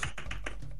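Computer keyboard keys tapped in quick succession while playing Roblox Speed Race, a rapid run of about five light, clicky strokes heard up close, with no talk.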